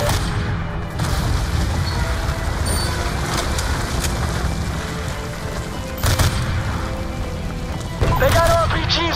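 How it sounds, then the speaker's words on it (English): Dense gunfire and heavy explosions fill a Call of Duty: Black Ops II firefight on a Los Angeles freeway, with a constant loud roar, sharp booms and bursts near the start and around six and eight seconds, under shouting voices. "They're taking heavy fire from all directions!"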